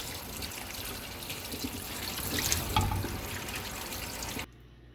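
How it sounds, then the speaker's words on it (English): Asparagus rinsed under a running kitchen tap, a steady close rush of water splashing into the sink with slight swells, then cutting off abruptly at the end. "So I'm going to just rinse all my asparagus."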